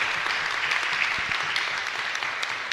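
A parish congregation at a novena celebration for the Virgin of Fátima breaks into dense, steady applause, many hands clapping together with a few sharper claps standing out.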